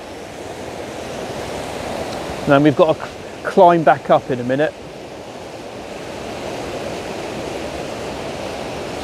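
A waterfall roars as a constant broad rushing wash in the background, with a person briefly speaking over it partway through.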